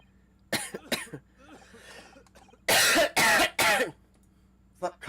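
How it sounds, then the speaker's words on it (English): Several harsh coughs, close and loud, come in quick bursts with short pauses between them, followed by a faint cough near the end. "Stop coughing in my ear."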